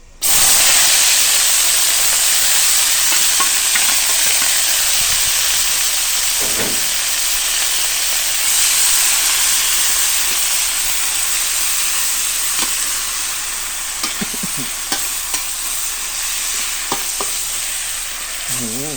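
Loud, steady sizzling and hissing of pork fried rice with morning glory stir-frying in a hot pan, with scattered clinks and scrapes of utensils, and no voices.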